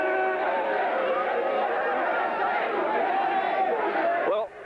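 A wrestling audience at an NWA show cheering and chattering as one continuous, dense crowd roar, loud throughout, with a brief voice cutting through at the very end.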